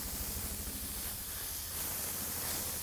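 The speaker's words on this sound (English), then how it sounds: "You can hear it sizzling." Burger patties sizzle on a hot griddle, a steady, close, hissing crackle that runs unbroken with no talk over it.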